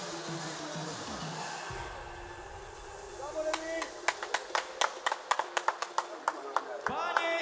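An audience at an MMA event in Bytom breaks into applause after the fight, sharp separate hand claps building over a voice and a loud crowd murmur.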